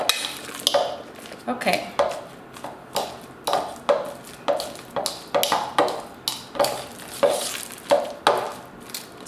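Bananas are mashed and stirred in a bowl, a utensil clinking and scraping against it in a steady rhythm of sharp taps about once a second, close up, with a brief spoken word.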